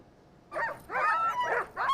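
Alaskan Husky sled dogs of the Iditarod race make a string of high whimpers and yips at close range, in short bursts with brief pauses and no talking.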